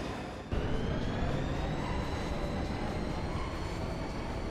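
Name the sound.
train departing in Final Fantasy VIII video game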